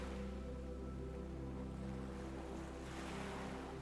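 Ocean waves wash onto a sandy beach in a continuous, steady surf roar, with a low rumble and a gentle swell in the hiss toward the end, no voices.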